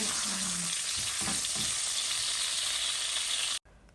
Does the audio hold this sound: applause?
no